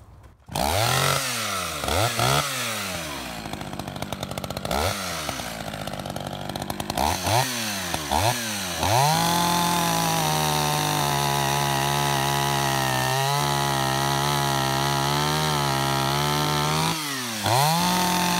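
An old Echo chainsaw roars loud and close, revving in sharp bursts before settling into a steady high whine as it bites through wood, then revving again.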